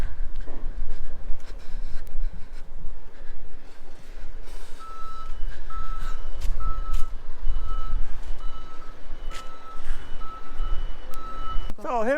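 A delivery truck arrives at a rural French property and backs up, its reversing alarm beeping in a steady repeating pattern over a low rumbling engine, loud and close.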